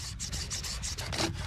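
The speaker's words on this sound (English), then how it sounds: "let's give this bow drill a red hot crack" A bow drill spindle rubs against a wood fireboard while trying to start a fire on an abandoned island. The close, soft strokes are rhythmic, rasping and scraping, about eight quick back-and-forth passes.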